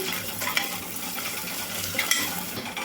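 Sliced onions and ginger-garlic paste fry in a pan for a Telugu broad bean and tomato curry, a steady close sizzle broken by a few stirring scrapes and clinks, with no voices.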